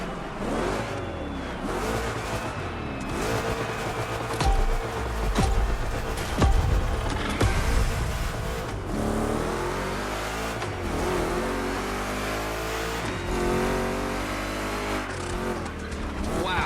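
Two Chevy big block engines roar and rev hard in The Crew Motorfest racing game, climbing and dropping through the gears with tire squeal during rough turns, loud and close throughout.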